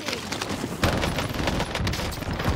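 PPSh submachine gun hipfire in the video game Warzone: rapid, dense bursts of automatic gunshots roll on continuously, loud and close, with a voice talking over the shooting.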